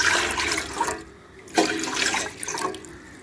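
Water pours from a cup into a cooking pot while making sago appalam, a steady splashing gush that breaks off briefly partway through, then resumes in two more close, moderately loud pours with no talk.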